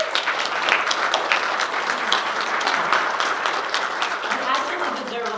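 Sustained applause from a conference keynote audience, dense steady clapping filling the whole stretch with a faint voice or two underneath.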